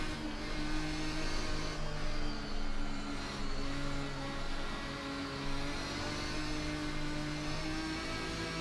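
A GT1 race car engine in the Assetto Corsa racing game at Road America, a steady, loud droning whine that holds without a break and has no talking over it.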